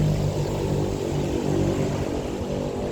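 Propeller airplane drones overhead in a steady, broad engine rumble, moderately loud and unbroken, with no talk over it.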